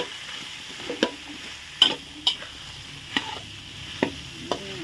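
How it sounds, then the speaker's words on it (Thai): Thai round eggplant is stir-fried with red curry paste in a wok for a catfish curry dish. Sharp spatula scrapes and knocks come at uneven intervals over a soft, steady sizzle, close up. "ผัดมะเขือก่อน คนให้เข่ากันนะจ๊ะให้เข่ากับพริกแกง เข่ากับพริกแกงเลย"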